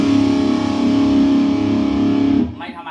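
Electric guitar played through a small, punchy distortion pedal into a Laney LY300 amp, a thick, buzzing sustained tone ringing loud and alone before cutting off abruptly near the end.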